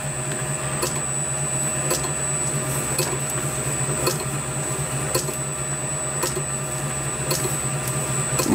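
Lathe-mounted drill or tap working through a cast iron drive plate in a workshop, giving a steady machine whine and grinding hum with faint periodic ticks, continuous and close throughout.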